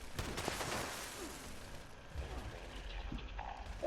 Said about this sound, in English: shooting these mainframe cores out